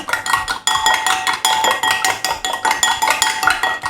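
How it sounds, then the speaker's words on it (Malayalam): Eggs with sugar and cardamom powder are beaten briskly in a bowl, giving fast, rhythmic clinks and taps of a utensil against the bowl, loud and close, with no voices. "1 ടീസ്പൂൺ പഞ്ചസാര കൂടെ ചേർത്ത് കൊടുത്തിട്ട് മുട്ട നന്നായിട്ട് ഇതുപോലെ ബീറ്റ് ചെയ്തെടുക്കണം"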